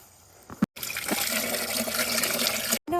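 Water is poured out for pigs in a splashing, gushing stream after a brief quiet moment, loud and close, stopping abruptly near the end.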